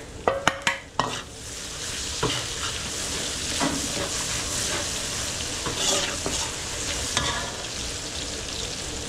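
Chicken wings frying with garlic in a hot pan for a very spicy dish, a steady loud sizzle with clattering stirs near the start and scraping strokes throughout, no talking.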